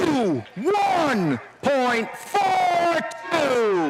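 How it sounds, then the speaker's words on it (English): Hometown crowd screaming and cheering for the Hobos at the Central Islip Invitational firefighter drill, loud rising and falling yells in repeated bursts, mixed with an announcer's voice. "you can hear the crowd in the background screaming for the Hobos"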